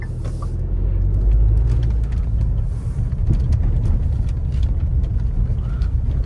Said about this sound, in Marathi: थोडं आपण ऑफ रोडिंग करू या गाडीसोबत